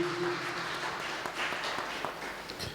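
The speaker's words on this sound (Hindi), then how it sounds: "जोरदार तालियां प्रभु की महान उपस्थिति के लिए।" Congregation applause at a worship service, a dense, steady patter of many hands clapping together at moderate distance, with a faint sustained musical tone underneath at the start.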